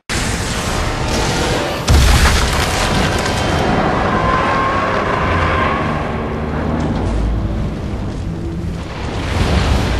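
A rocket explosion in the video game Resident Evil Revelations bursts with a loud boom about two seconds in, then rolls into a sustained heavy rumble with dense game noise.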